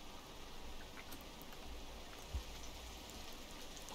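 Faint, steady trickle of running water in the video game Rain World, a soft continuous patter with scattered small drips and one brief low thump, quiet and slightly distant.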